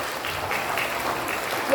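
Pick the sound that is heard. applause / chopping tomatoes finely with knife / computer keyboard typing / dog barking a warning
applause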